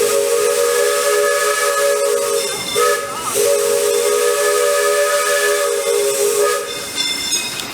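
Steam locomotive Fred Gurley No. 3 sounds its new whistle at Disneyland, a loud, steady steam tone held for several seconds with a short break and a warble near the middle, backed by constant hiss.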